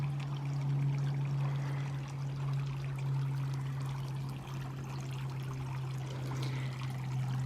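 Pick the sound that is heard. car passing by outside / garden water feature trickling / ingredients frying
garden water feature trickling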